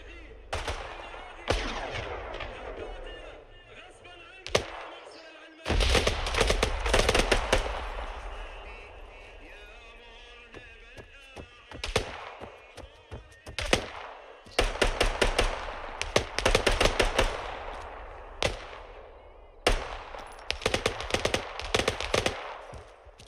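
Bursts of automatic rifle fire and single shots in Arma 3, loud sharp volleys in irregular clusters separated by quieter gaps with distant background rumble.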